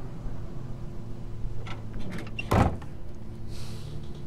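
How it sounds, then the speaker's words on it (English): A door closes with a single sharp thud midway through a scene in The Walking Dead video game, with faint movement sounds before it and a low steady hum underneath throughout. "Close the door."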